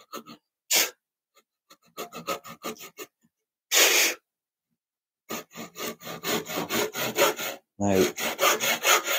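A hand tenon saw cuts wood in bursts of rhythmic push-pull strokes, close and crisp, separated by pauses; a voice speaks briefly.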